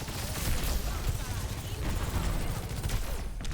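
A sustained barrage of gunfire rattles through an Overwatch match, with dense overlapping shots forming a steady, loud, continuous din for several seconds.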